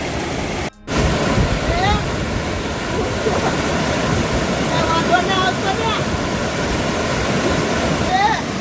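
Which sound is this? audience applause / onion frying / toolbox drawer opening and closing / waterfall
waterfall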